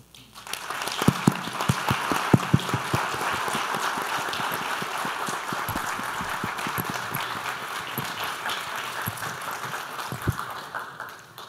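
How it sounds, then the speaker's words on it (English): Audience applause at an academic symposium lecture, a sustained, full-room clapping that swells quickly and holds steady for about ten seconds, with a few louder individual claps standing out. "let's do one more round of applause for Dr. Simmons"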